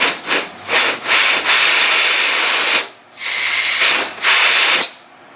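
Loud bursts of compressed air hiss in short blasts, then longer sustained rushes, blowing a brake piston out into a block of wood, with a muffled, rubbing quality.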